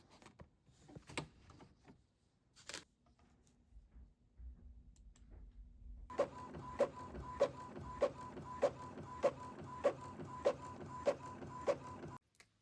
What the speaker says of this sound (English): hit print and make sure my printer's ready